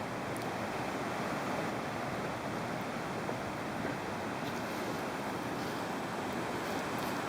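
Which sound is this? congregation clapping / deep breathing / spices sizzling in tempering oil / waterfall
waterfall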